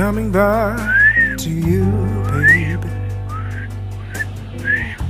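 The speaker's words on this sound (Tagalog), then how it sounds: "Subukan ko daw na magsipol." A person whistles a few short, rising notes close up, with breathy attempts between them over a low background hum.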